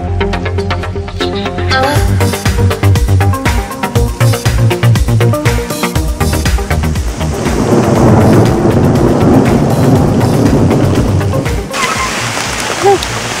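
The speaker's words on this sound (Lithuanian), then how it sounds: "Prie stiprėjančio lietaus prisijungė ir perkūnija." Thunder rumbles through heavy rain during a weekend bicycle outing, deep rolling booms under a dense, loud downpour, with people talking and shouting nearby throughout.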